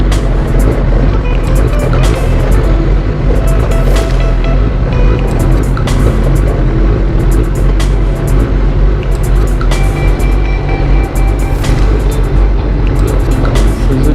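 Porsche engine rumbling at an outdoor supercar meet; a loud, steady drone with a rushing, wind-buffeted texture and occasional sharp transients, continuous for the whole stretch with no talking.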